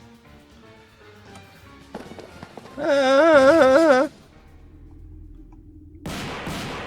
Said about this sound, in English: As you bolt through the door, gunshots ring behind you, followed by an echoing screech.